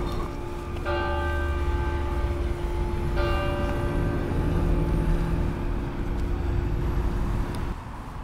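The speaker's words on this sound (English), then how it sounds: "Just heard those church bells just ringing out then" Church bells ring out in a small North Wales cathedral city, two struck peals at about one and three seconds sustaining over steady outdoor rumble of traffic, fairly distant and continuous.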